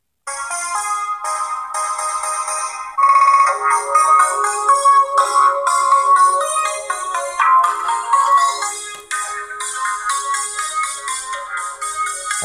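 A phone ringtone plays as a loud, continuous melodic tune through a homemade phone speaker amplifier, steady for the whole stretch with a brief dip near the end and no talking.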